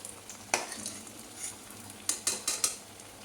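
Lotiya fish chops frying in hot oil, a soft sizzle underneath a few sharp clinks and scrapes of a utensil against the pan, with a quick cluster of taps near the end.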